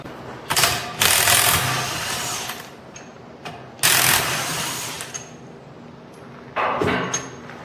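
A ratchet socket wrench working on the tilt cylinder of a 921E loader, heard as three loud bursts of rapid mechanical clicking and whirring separated by quieter gaps, with no voices.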